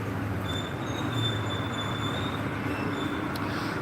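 A train pulls into Edinburgh station with a steady low rumble of wagons and a thin wheel squeal above it, heard from the platform at moderate distance with no talk.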